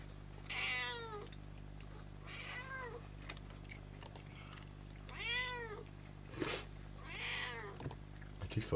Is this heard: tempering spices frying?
no